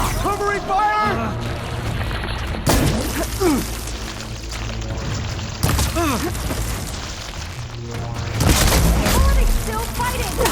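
Gunfire and explosive booms from a battle in the video game Horizon Forbidden West, with loud bursts and blasts running steadily under game music, swelling toward the end while characters speak.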